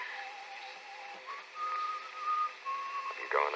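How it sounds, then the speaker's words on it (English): Someone whistles a slow tune inside a building, the wavering melodic notes fairly clear but slightly distant, ending with a brief rustle of other noise. "The whistling was somewhere in the building."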